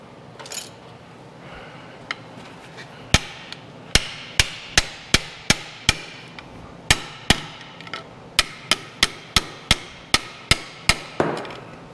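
A hydraulic cylinder pin on a Case 580SK backhoe is hammered with around twenty sharp, loud metallic blows, delivered in quick steady runs with short pauses between groups.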